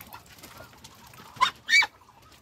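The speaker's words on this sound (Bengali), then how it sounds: "আজকে বের হয়েছে, এই যে একটু আগে বের হয়েছে কয়েকটা" Chinese goose goslings and fowl give two short, sharp calls close by, a brief chirp followed by a slightly longer one, over a faint background hum with no talking.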